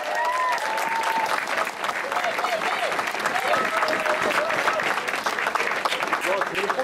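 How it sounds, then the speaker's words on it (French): Crowd applause for the most combative rider at a Tour de Romandie cycling podium ceremony, a steady, even wash of clapping from an outdoor audience with voices talking underneath throughout. "on l'applaudit bien fort, s'il vous plaît."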